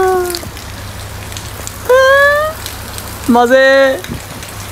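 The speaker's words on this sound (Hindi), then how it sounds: "ठंडा ठंडा बारिश का पानी" Steady rain falls outdoors as a constant soft hiss, while a voice talks and makes high, drawn-out tonal calls over it.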